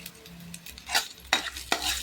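Garlic stirred with salt and turmeric in a pan for garlic rice, a few distinct scraping sweeps of a spoon against the pan over a soft sizzle, close and moderately loud, no talking.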